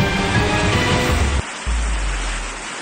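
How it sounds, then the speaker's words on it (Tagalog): Heavy typhoon rain and gusting wind from Typhoon Leon in Gonzaga, Cagayan, form a loud, dense roar that briefly dips before surging back. "Binulabog ng malakas na ulan at bugso ng hangin ang mga residente sa bayan ng Gonzaga sa Cagayan"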